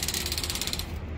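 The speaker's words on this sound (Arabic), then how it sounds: "حتى صوت الباب" Cafe door mechanism in a Japanese cat cafe, a quick rapid ratcheting clatter of gears lasting about a second, fairly faint and fading out at the end.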